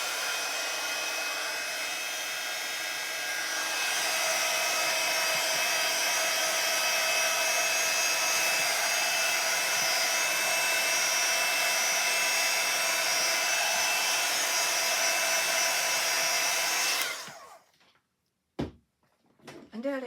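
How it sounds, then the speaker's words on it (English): A handheld heat tool blows hot air to dry ink on a 6x8 card, a loud steady whooshing roar lasting about seventeen seconds before switching off, followed by a few small handling knocks. "Just going to do my heater"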